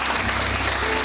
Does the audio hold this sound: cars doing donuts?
no